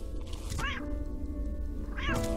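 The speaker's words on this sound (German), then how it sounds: "Die Katze kann ich steuern." A cat in the video game Clocker meows twice, each a drawn-out, rising-and-falling cry about a second and a half apart, over a low steady game background.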